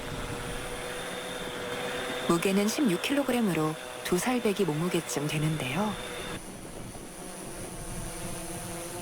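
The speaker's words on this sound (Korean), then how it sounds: "굉음을 울리며 상공으로 향하는 액화수소 드론." A liquid hydrogen drone roars with a steady propeller drone as it climbs into the air, loud and continuous throughout, while a person talks over the middle of it.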